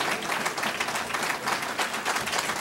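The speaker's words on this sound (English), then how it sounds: "Give him another great round of applause." An audience at a church address gives a full round of applause, with dense, even clapping heard close throughout the short moment and no talk over it.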